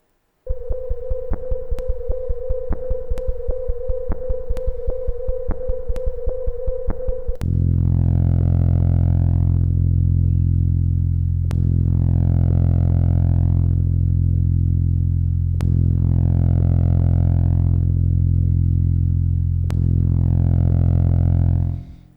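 Rapid clicking crackles from a sonified planet signal give way to a deep, throbbing electronic drone that swells and fades in slow repeating pulses, with no voices.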